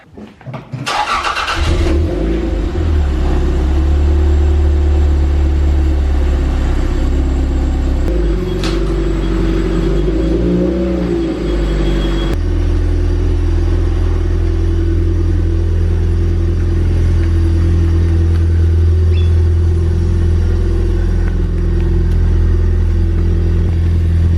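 Toyota MR2 on newly installed D2 Racing coilovers starts and pulls out, its engine a loud, close, steady low rumble that holds unbroken throughout.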